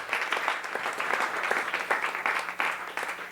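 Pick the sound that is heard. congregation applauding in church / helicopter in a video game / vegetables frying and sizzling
congregation applauding in church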